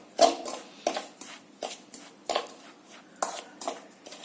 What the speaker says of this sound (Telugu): తర్వాత కారం తర్వాత ఆవపిండి తర్వాత మెంతిపిండి అలా కలిపేసుకోండి బాగా